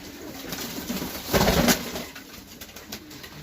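Pigeons, including a female, coo softly in a pigeon breeder's loft over a hissy background, with a brief louder rustling burst partway through.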